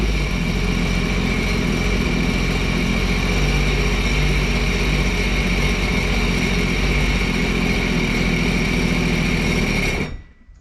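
A Sea-Doo jet ski engine that had sunk runs loud and steady close by, a continuous mid-pitched roar with a whining tone that holds for about ten seconds before cutting off abruptly.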